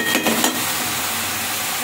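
A spoon stirs bottle gourd and bhetki fish head with salt, green chillies and turmeric in a pan, a few quick scraping strokes over a steady soft sizzle, close up and without talk.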